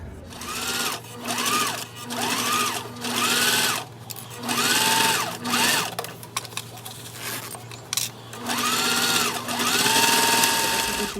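Close and loud, a sewing machine bastes a quarter-inch seam on a small wristlet in several separate bursts with short pauses and clicks between them.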